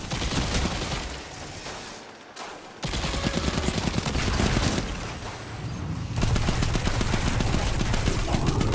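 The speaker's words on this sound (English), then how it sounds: "Hey man, can I shoot you with this gun?" Dense gunfire in the video game Destiny 2, with rapid bursts and sustained volleys that break off briefly and then resume, loud and continuous.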